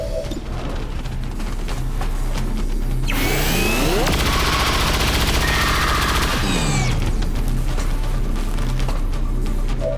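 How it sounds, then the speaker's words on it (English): An XCOM 2 Grenadier fires, with loud rapid gunfire and a heavy booming blast that rolls through a dense, sustained stretch of combat noise, close and overpowering. "take the first shot with our Grenadier"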